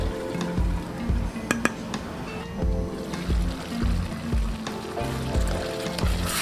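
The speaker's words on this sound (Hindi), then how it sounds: "अभी इसको हम अच्छी तरह से भूनेंगे" Chicken karahi frying in a wok while being stirred, with steady close sizzling and repeated scraping strokes of a utensil against the metal, recurring every second or so with no talk.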